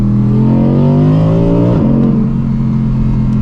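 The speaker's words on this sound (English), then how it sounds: "You can really see how aggressive that car launches, and yeah, also the sound is not too bad, honestly." A naturally aspirated car engine launches hard inside a tunnel with the window open, climbing in pitch through a strong rev, a quick shift, then pulling again, loud, close and echoing.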